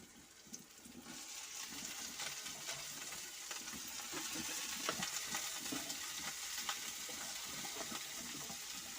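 Cauliflower and peas fry in a pan with onion, tomato and cumin, giving a soft, continuous sizzle and watery crackle at low volume with no speech.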